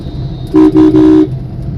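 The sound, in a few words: car horn honking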